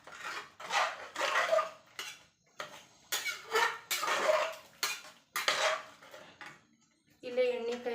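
Boiled ingredients are mashed and mixed in a bowl for a hesarukalu palya with dill greens. Repeated bursts of scraping and clinking from a utensil come in an uneven rhythm, and a voice is heard at times.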